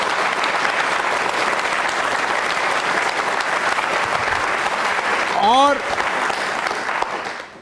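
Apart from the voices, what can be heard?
loud audience applause for guests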